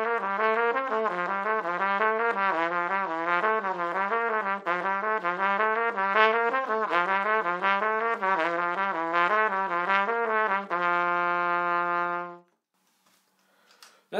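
A solo trumpet plays a flow study, with a steady run of smoothly connected notes that rise and fall in a repeating pattern. It ends on a long held note that cuts off into near silence.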